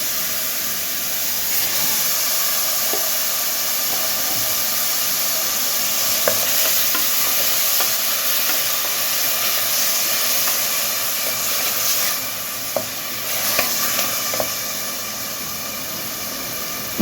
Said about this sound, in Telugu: ఈ ముద్ద పచ్చివాసన పోయే వరకు వేగాలండి